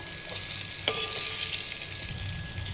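Stuffed brinjal frying in oil as the pieces are turned, a steady close sizzle with one brief utensil tick, no voices.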